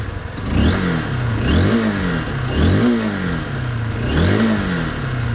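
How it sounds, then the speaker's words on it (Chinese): A Honda CBF190X motorcycle with a single-cylinder, two-valve engine is revved three times in succession, each rising roar falling back toward idle, loud and close with no talking. "我们先听一下这个车的声浪啊"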